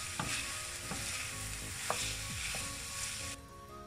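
Meat sizzles and fries steadily in a pan, close and continuous, with a few scrapes and stirs of a utensil against the pan over the constant crackle.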